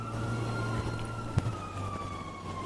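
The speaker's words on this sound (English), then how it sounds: "Y'all heard them sirens?" A video game police siren wails faintly in the distance with a steady rising and falling tone over low rumbling background noise.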